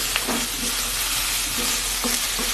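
Onion paste sizzles and fries in a pan for a prawn and potato curry, a steady hiss broken by a few light stirring scrapes, close and alone.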